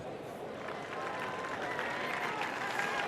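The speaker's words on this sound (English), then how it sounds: "some warm applause for Nowhere coming into the winners' enclosure" Warm applause from a racecourse crowd at Cheltenham as the winning horse comes into the winners' enclosure, a steady broad clapping wash held throughout, with some crowd noise mixed in.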